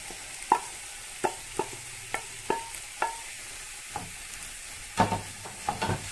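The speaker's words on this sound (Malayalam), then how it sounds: "നന്നായിട്ടൊന്ന് ഇളക്കി കൊടുക്കാം." Kerala-style banana stem and green gram thoran stirred in a pan, a series of distinct spoon scrapes and taps against the metal at an uneven rhythm over a quiet, low sizzle, with no talking.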